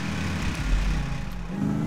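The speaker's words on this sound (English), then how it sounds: "This car sounds terrible." A rough, uneven engine drone from a badly running car in a video game, with a low rumble sustained close by and a slight sputter, heard alone without talk.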